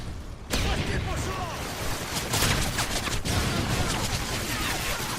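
Intense gunfire in Modern Warfare 3 gameplay: dense, loud, overlapping bursts of shots with sharp cracks, running almost continuously after a sudden start.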